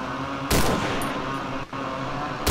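Loud gunshots from a weapon in the horror video game Cry of Fear: one sharp blast, a long dense burst of fire, then a short dip and another sharp shot at the end.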